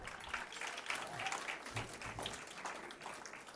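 An audience applauds at a black achievement awards ceremony in Calgary, a sustained, dense patter of many hands clapping at moderate distance throughout.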